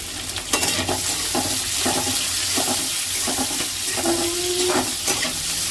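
Onions fry in a pan with a steady broadband sizzle, punctuated by repeated scrapes and stirring knocks of a utensil; close and moderately loud, with no talking.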